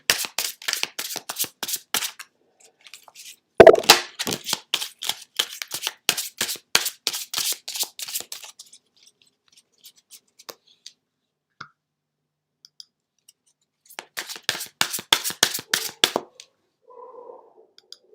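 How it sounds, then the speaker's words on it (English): Rapid riffle-shuffling of a deck of tarot cards, crisp dense bursts of flicking that repeat several times, then stop, with a later shorter round of shuffling. "I just want to make sure that they're definitely having good old shuffle."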